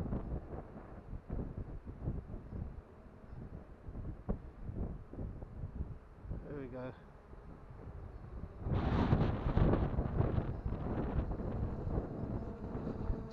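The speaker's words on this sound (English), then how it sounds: "it's very, very windy" Strong wind buffets a microphone outdoors during a 3DR Solo drone flight, a constant low rumbling roar that gusts louder toward the end, with no talk.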